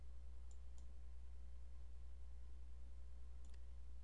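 Mouse clicks on a computer button, two faint sharp clicks early and another pair near the end, heard over a steady low electrical hum with no speech.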